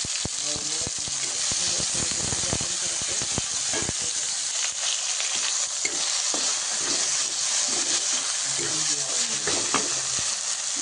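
Ridge gourd vegetable frying in a pan, a continuous loud sizzle with repeated scraping and stirring strokes of a utensil throughout.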